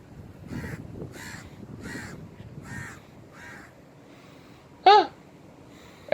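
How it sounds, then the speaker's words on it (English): A crow caws repeatedly in a seaside city setting at VivoCity, five or six harsh evenly spaced calls at moderate distance, followed by a couple of sharper sounds near the end. "Yes, Crow, I see you, I hear you."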